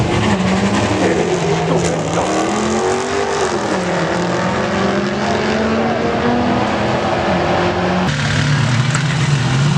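A 6.4-liter V8 Dodge Hellcat racing at a drag strip, a loud sustained engine roar with rising and falling pitch and a sharp shift near the end, heard up close.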